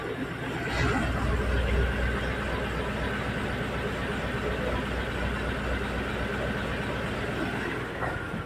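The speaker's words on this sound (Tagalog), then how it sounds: "Dito yung makina" Engine of a grounded boat at Pozorobo beach, heard from inside the hull as a loud, steady, low rumbling drone that runs unbroken throughout.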